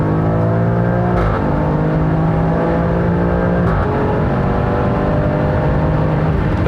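A 2020 facelifted Alfa Romeo Stelvio Quadrifoglio SUV in race mode accelerates hard from 100 to 180 km/h, its engine roaring loud and close with steadily rising pitch, briefly dipping at two gear shifts before climbing again, with no talk.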